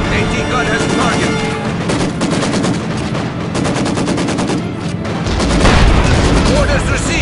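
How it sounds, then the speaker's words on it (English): Dense artillery and machine-gun fire from the Company of Heroes 2 video game, loud and continuous, with rapid rattling bursts and heavy booms building near the end. "Your gun is firing!"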